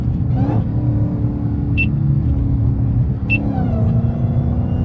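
A Dodge Hellcat Redeye with catless mid pipes pulling hard in third gear, a loud close engine rumble with supercharger whine, steady acceleration with small gear or pitch shifts, no talk.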